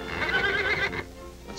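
A horse fighting the bit gives a loud, wavering neigh lasting nearly a second, followed by quieter rustling and movement, close and alone with no talk.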